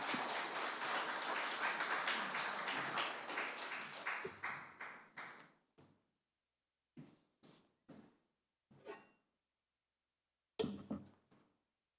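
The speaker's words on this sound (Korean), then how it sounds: "우리 목사님 나오실 때 뜨거운 박수로 모시도록 하겠습니다" Church congregation at a Wednesday worship service applauding as the pastor comes forward, a dense burst of clapping that thins out into scattered individual claps and brief silences, with one last short flurry.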